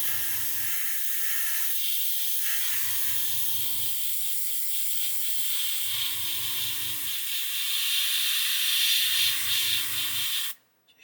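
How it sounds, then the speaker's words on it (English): An airbrush blows a continuous stream of air over heavy paint coats on a model, a steady close hiss running unbroken, with a low intermittent hum pulsing in the background before it cuts off abruptly. "just using air so I can dry these heavy applications where the airbrush has been fighting with me"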